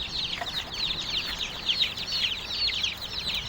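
Young Asil chicks about 20–25 days old fighting give off continuous high chirps and clucking squabbles, close and fairly loud throughout with no voices.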